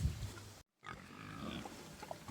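Tamworth pigs grunt at feeding time in a muddy pen, with low snuffling grunts close by, a short dropout of silence partway through, then more rooting noises and grunts.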